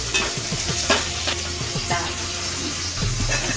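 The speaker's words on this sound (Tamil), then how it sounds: "பச்சை மிளகாய் போட்டு மறுபடியும் அதை கொஞ்சம் வதக்கிட்டு" Onions and green chillies sautéing in a pan for a prawn curry, a steady sizzle with repeated scraping stirs of a spoon close by, no talking.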